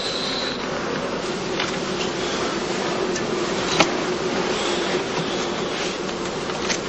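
Bees hum in a heathland skep apiary during the heather blossom, a dense, steady buzzing swarm with no pauses and one brief knock midway.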